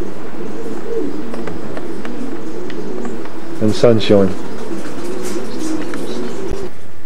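Someone talks over steady outdoor ambience while racing pigeons in a loft give a brief burst of soft, throaty cooing midway.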